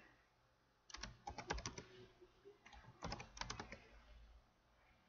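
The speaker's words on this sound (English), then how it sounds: "And we'll type in our new label for that one." Rapid bursts of keystrokes on a computer keyboard come in two flurries with a pause between them, close and fairly quiet, with no talking.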